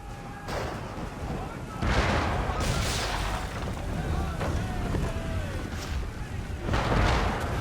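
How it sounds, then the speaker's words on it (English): Mortar fire in the video game Assassin's Creed 3 Remastered, heavy booming blasts over rushing wind and sea noise during a naval battle, with a voice shouting over the din. "Mortars!"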